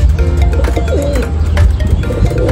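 Racing pigeons at a derby race coo in soft, repeated throaty calls close by, alongside light flutters and background rustle, with no speech.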